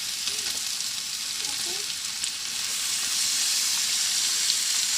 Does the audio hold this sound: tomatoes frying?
yes